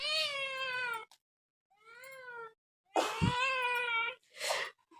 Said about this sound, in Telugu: ఇదే నా పిల్లి